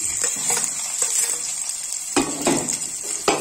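Shallots and onion fry with green chilli and garlic in a pan while a spatula stirs them: a steady close sizzle with scraping strokes and occasional metal clinks against the pan.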